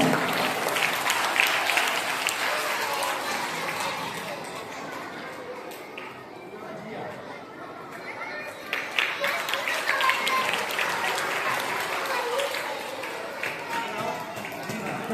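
Crowd of schoolchildren and guests clapping at an annual prize distribution ceremony in Angaon, dense sustained applause that dips slightly midway and swells again, with background chatter mixed in.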